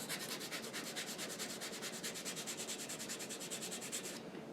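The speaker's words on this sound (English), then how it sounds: "Make sure you're sanding in the direction of the wood" Rapid, even back-and-forth strokes of sandpaper rasp against wood, close up, in a steady rhythm before stopping abruptly.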